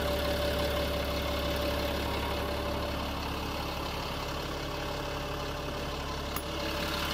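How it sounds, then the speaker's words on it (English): A Caterpillar diesel engine idles steadily, a constant low rumble with a faint mechanical hum and no changes in speed, continuing alone without any voices over it. "There's your Caterpillar diesel. Runs good."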